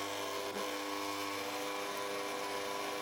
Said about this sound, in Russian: И взбиваем на высокой скорости до пышности.